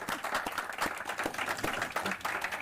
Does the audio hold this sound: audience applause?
yes